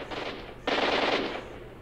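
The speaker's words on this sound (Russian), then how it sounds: "Эй, черти, что за стрельба?" Automatic gunfire in S.T.A.L.K.E.R. Yermak, a dense burst of rapid machine-gun shots heard at a distance, then a louder, closer volley that trails off, with no voices.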